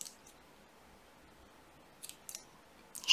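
Scissors trim knitting yarn flush on a top-down seamless knitted cardigan, giving a few soft, close snips separated by near-silence, with a sharper cut at the end.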